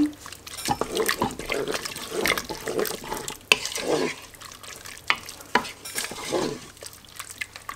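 A spoon stirs a beef stew sauce thickened with tomato paste, making wet, squelching scrapes and occasional clinks against the pot at close range, with soft background sounds.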